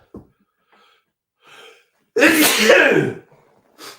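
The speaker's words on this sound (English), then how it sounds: "going to sneeze again." A single loud, close sneeze bursts out after a few short inhaling breaths, followed by a brief sniff.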